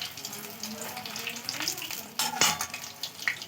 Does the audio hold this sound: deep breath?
no